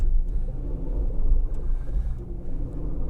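2023 Honda CR-V Hybrid AWD crawling off-road with the throttle held steady, a low continuous engine rumble and drivetrain hum throughout, close and even, with no talking.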